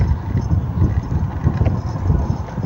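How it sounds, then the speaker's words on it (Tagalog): Steady low rumbling wind buffets the microphone throughout, a constant dull roar with no distinct events. "medyo mahangin ngayon mga idol"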